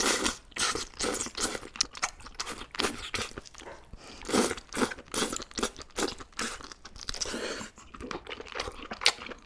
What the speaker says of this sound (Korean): 다음은 문어를 먹을 건데